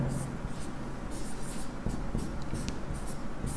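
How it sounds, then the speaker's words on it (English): Chalk or marker scratching on a board during a Sanskrit lesson, a steady run of short strokes under a noisy room hum, with a voice faintly in the background. "I will write one here."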